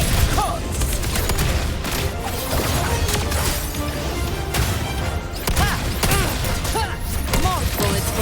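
Sustained gunfire and crashing impacts during a combat battle in Wuthering Waves, a dense, loud barrage running throughout with game effects layered over it.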